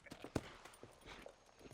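Horse hooves clip-clop on a dusty frontier trail in the Red Dead Redemption video game, a few quiet, uneven hoof strikes with one sharper thud, faint and brief with no clear whinny.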